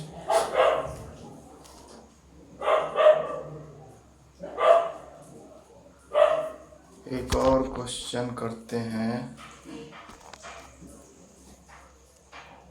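Several dogs bark in short bursts nearby, interrupting a Hindi-speaking teacher during a class; the barks come in spaced clusters over the first half, followed by talking with lighter background yelps.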